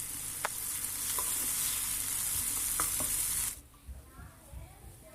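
Fried mushroom mixed with roasted grated coconut stirred in a sizzling pan, a loud continuous fry with scraping strokes of the spoon, then the sizzle drops away and only soft clinks remain.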